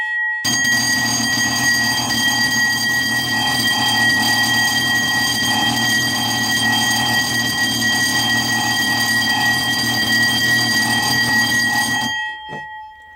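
An old CQR Type H alarm bellbox rings continuously and very loudly for about twelve seconds, a harsh, steady metallic clamour that stops abruptly.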